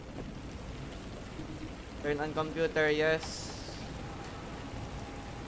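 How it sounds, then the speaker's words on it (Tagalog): Steady rain hiss from a storm in the Filipino horror video game ISO/2004 fills the background throughout, with a brief burst of a synthetic computer voice rising over it partway through. "totoo siyang bagyo."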